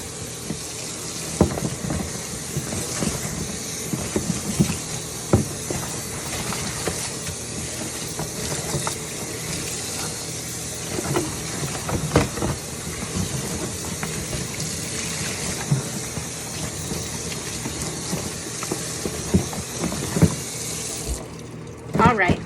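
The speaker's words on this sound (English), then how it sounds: "So I'm going to rinse my gloves. Then I'm going to grab my apron and I'm going to rinse my apron." Tap water runs steadily into a sink while rubber gloves and an apron are rinsed during PPE decontamination. The close rushing and splashing goes on throughout, with occasional handling knocks.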